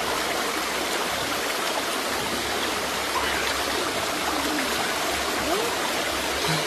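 Steady broadband rush of flowing, splashing water, continuous and fairly close, with no talking over it.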